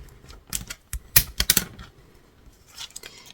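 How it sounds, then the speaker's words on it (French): A scoring tool presses and drags fold lines into scrapbooking card stock, giving a quick cluster of close, crisp scratchy clicks and taps, with no talk. "Hop, je marque mes plis."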